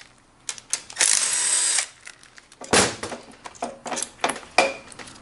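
A power drill or impact driver removes long bolts from a GY6 Ruckus scooter stator, with a loud whirring burst followed by several short, sharp bursts and clicks of tool handling close by.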